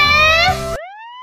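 A brief, loud rising electronic siren in Minecraft sweeps upward, cutting off a dense tonal burst before it, like a synthetic alarm wail.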